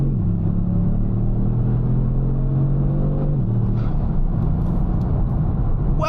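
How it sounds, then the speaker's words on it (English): Kia Stinger GT with a BMS TCU accelerating hard, a loud continuous engine drone and rumble with rising tones and a shift partway through, heard from inside the car. "I've never spun my tires that much"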